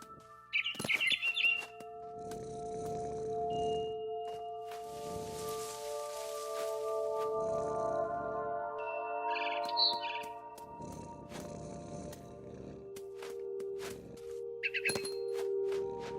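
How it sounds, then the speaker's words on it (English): A barn swallow chirps in the video game What Remains of Edith Finch, short bright tweets in scattered bursts over quiet ambient tones and soft game sounds. "Then I heard chirping outside my window. It was a barn swallow going back to her nest."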